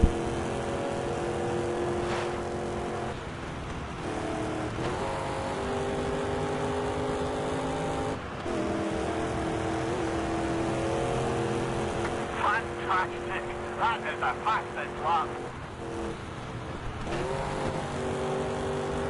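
A race car engine in the video game TOCA Race Driver 3 drones and climbs in pitch through repeated gear shifts, steady and loud, with brief chirping screeches midway.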